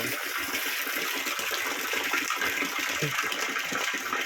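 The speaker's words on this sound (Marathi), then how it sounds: "गॅरमध्ये पाणी सोडायला लागले" Continuous rushing water gushing steadily into a tank, loud and close, with a constant hiss throughout and no pauses.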